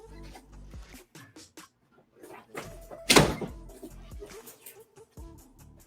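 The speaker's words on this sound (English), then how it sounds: "I'm going to shut the door" A door is pushed shut with a single sharp thud, near and loud, amid soft shuffling and handling noises.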